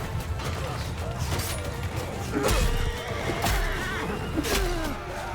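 A horse neighs loudly in the video game Mount & Blade II: Bannerlord over a busy backdrop of clashing, rumbling battle noise, with heavy impacts thudding now and then.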